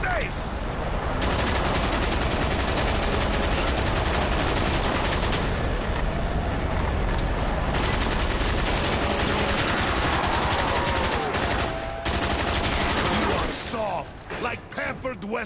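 Sustained automatic gunfire from Call of Duty Black Ops Ascension on Xbox 360, loud and nearly continuous bursts with blasts and mechanical clatter, a voice briefly heard, ending in scattered shots.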